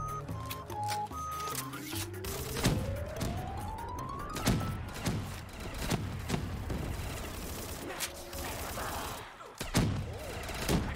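Explosive-only weapons firing in a Black Ops 3 Zombies match. Faint, repeated shots and bangs pulse under game music tones and a rising siren-like sweep, all fairly quiet and distant.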